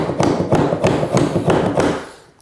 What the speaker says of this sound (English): Every once in a while you're going to want to hammer something.